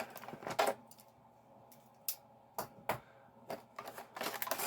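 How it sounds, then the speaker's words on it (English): A knife cuts open the plastic packaging of a McFarlane Toys DC Super Powers figure. Close, quiet crackles and sharp snaps come in scattered bursts with pauses between them. "this packaging keeps the toy well away from where the knife is cutting"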